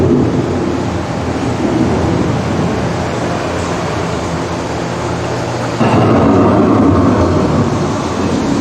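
A thunderstorm effect rumbles through the Living with the Land boat ride at Epcot: a steady, loud wash of rolling thunder and rain-like noise that swells even louder for the last few seconds.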